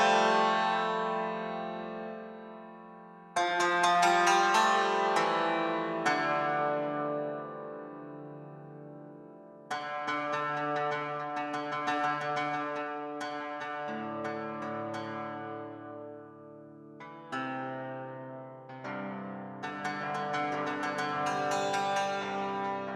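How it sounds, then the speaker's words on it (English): Cymbalom from a Spitfire Audio sample library playing a piano part, bright struck metal strings ringing out in chords and runs with long decaying tails, several phrases with short pauses between them. "So cymbalom sounds like this."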